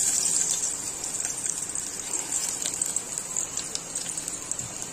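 Onion and garlic fry in oil for dal, giving a steady, loud sizzle with a hissing, rain-like texture that holds evenly for the whole stretch with no talk over it.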